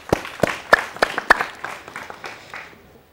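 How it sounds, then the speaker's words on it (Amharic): A small group of performers at a stage competition claps for themselves in a short, uneven burst. Sharp separate claps come first, then they thin out and fade within a few seconds. "ለራሳችሁ አጨብጭቡ"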